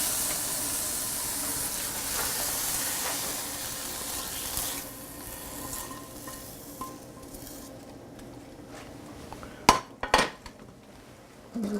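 Mushrooms go into a hot pan and set off a broad steady sizzle that fades over several seconds, then a few sharp clanks of a utensil against the pan close by, with no talking.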